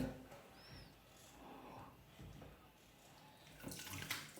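Water runs steadily from a tap while something is washed at a sink, a soft continuous flow with slight splashing that swells near the end, heard alone at low level.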